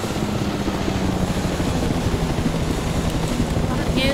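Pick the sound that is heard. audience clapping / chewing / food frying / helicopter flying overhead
helicopter flying overhead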